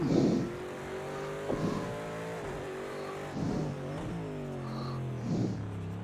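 A racing car in a driving game slides through slow corners, its engine droning and rising and falling through gear shifts, with brief tire noise and downshift bursts, steady and near with no talk.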